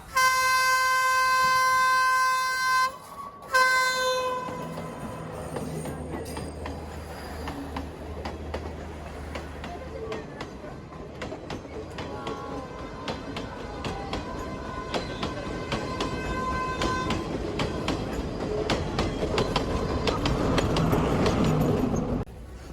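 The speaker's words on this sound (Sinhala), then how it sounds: "ඕ මේ අර ආරුක් නමේ පාලම ගාමින් යන කෝච්චිය" A train crossing a bridge near Ella, Sri Lanka, rumbles and clatters steadily, with loud horn blasts at the start, building in intensity toward the end.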